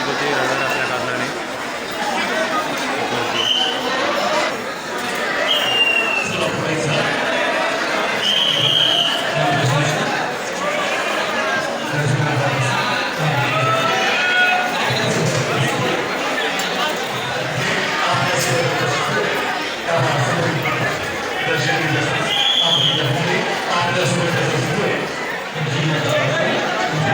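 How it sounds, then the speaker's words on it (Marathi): A dense crowd of pilgrims murmurs and chatters continuously at the Swami Samarth temple in Akkalkot on a busy Sunday, a loud close hubbub of many voices with footsteps and occasional louder calls. "गर्दी खूप होती रविवार असल्या कारणाने"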